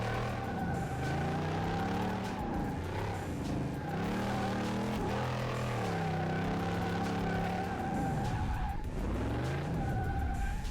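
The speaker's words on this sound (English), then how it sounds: "This game is definitely difficult to drift in." Engine revs rise and fall in waves as a car drifts in Car Mechanic Simulator 2018, with tires squealing and skidding continuously throughout, loud and constant with no talking.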